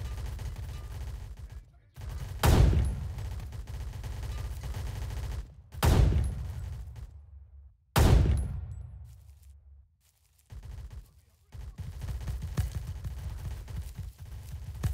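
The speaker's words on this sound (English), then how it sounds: "we're taking heavy fire" Heavy gunfire in the video game Blackhawk Rescue Mission 5: loud, booming shots in a few big bursts with long decaying rumbles, separated by quieter stretches of background noise.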